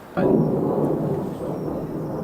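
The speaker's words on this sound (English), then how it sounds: "It's not a thunderstorm, it's a jet plane." A jet plane passes overhead, heard outdoors as a sudden loud, steady broadband roar that begins abruptly and holds for a couple of seconds with no talking.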